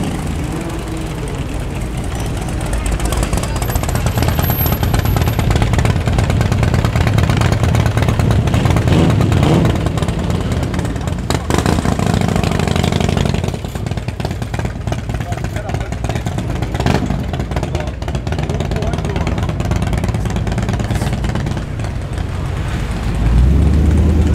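A GTS car rumbles past on a Sydney street among other fast cars, a loud, close engine roar that swells and falls over about twenty seconds. Voices talk throughout.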